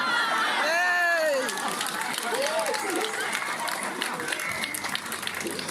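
Applause from a comedy audience spreads through a packed room, a steady wash of clapping that runs the whole way and is mixed with crowd noise and a few voices.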